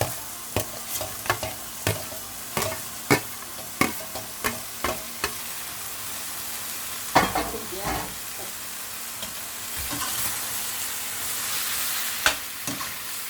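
Beans, carrot and shredded parotta stir-fried together for veg kothu parotta, a bright sizzle under repeated sharp spatula taps and scrapes, quick at first, then sparser and more spread out.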